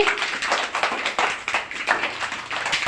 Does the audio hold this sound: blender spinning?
no